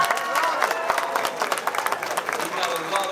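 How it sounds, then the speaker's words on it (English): An audience at a beach music hall of fame event applauds a band, a dense steady patter of clapping with some crowd noise, moderately loud and continuous throughout. "give them a warm round of applause."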